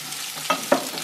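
Garlic and onion sizzle steadily as they fry in a pan, with two quick stirring scrapes cutting through the short, close hiss.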